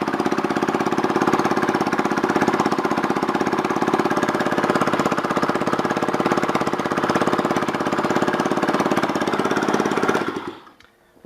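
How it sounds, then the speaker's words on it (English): A GY6 scooter engine runs at a steady, rattling idle for about ten seconds, loud and close, then cuts out abruptly. "that exhaust noise that's coming out right now"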